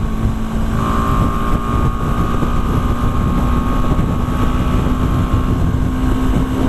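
Steady, loud engine drone of a BMW G310 GS motorcycle cruising at 110 km/h in sixth gear, with a constant high-revving whine under heavy wind rush throughout.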